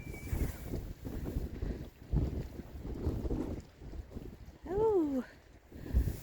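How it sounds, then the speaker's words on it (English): Wind gusting across the Halifax waterfront in December, a steady low roar with buffeting bursts against the microphone and a brief whistling tone near the end. "Ooh, little wind."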